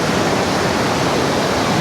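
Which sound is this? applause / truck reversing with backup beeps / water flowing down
water flowing down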